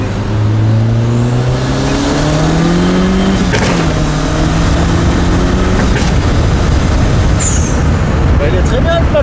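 A Peugeot 306 with a 2.0 engine revving hard through flat shifts, rising engine pitch broken by quick cuts between gears, loud and close with wind roar, voices talking over it.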